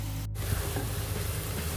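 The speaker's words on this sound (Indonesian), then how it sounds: "Tumis hingga aroma bawangnya tercium wangi, lalu masukkan terong yang sudah kita potong-potong." Purple eggplant pieces stir-fry in a pan with blended shallots and chili, giving a steady, close sizzle with faint stirring scrapes and no talking.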